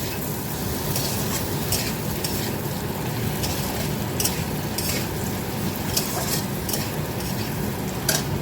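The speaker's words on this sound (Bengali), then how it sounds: "আলু আর পেঁয়াজ একসঙ্গে দিয়েছি, লবণ হলুদ দিয়ে এখন ভেজে নিচ্ছি" Potatoes and onions fry in oil with salt and turmeric, a steady sizzle filling the whole stretch, broken by several sharp scrapes and clinks of a spatula stirring against the pan.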